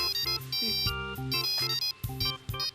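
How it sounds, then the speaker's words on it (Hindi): A phone ringtone plays a bright repeating electronic melody in short bursts, clear and fairly close, with no voices. "फोन बज रहा है आपका, उठा लीजिए।"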